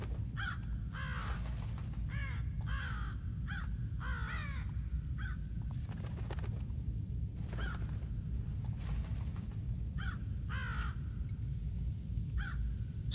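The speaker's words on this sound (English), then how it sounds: "Stupid bird, don't ruin the fun." In the Thief video game, a crow caws repeatedly with harsh, scattered calls over a steady low ambient rumble. The calls sound mid-distance and moderately loud.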